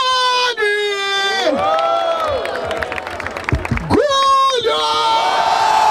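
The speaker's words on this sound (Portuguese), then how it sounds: "Barulho para as rimas de Johnny!" A crowd cheers and whoops for rapper Johnny at a freestyle rap battle semifinal in Brazil. Loud, excited shouting voices rise and fall over steady crowd roar, with a host calling out over the noise.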